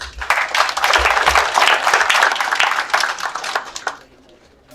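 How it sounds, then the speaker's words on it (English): An audience at a DataGiri tech meetup applauds a speaker, with steady, dense clapping for about four seconds before it thins out and stops. "So I request you to please clap for him."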